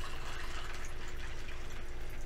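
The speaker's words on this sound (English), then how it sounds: "I'm getting some more water" Water is poured into a glass close by, a brief continuous splashing fill that runs the whole moment without talk.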